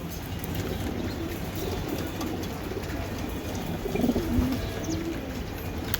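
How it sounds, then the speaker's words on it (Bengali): Racing pigeons, a breeding pair from a club, coo softly in a few low, throaty bursts near the end. A steady background hum runs underneath and no one speaks. "অনেক সুন্দর এক পেয়ার কবুতর"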